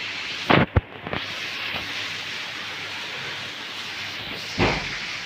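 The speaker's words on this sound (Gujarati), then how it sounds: "ફૂલ વરસાદ ધમધોકાર પડી રહ્યો છે" Heavy rain roars in a dense, constant wash over Ahmedabad at four o'clock, broken by a few sharp, loud bangs.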